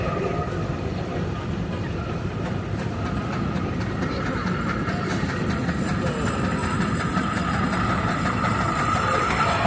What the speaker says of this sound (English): This is a 1910 steam engine owned by Paul and Angela Witter, operated here by Paul.